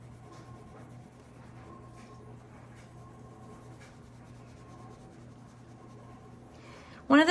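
Coloring on paper, a steady soft scratchy rubbing of a coloring tool that runs for several seconds at close range with a faint hum beneath, ending in a louder rustle.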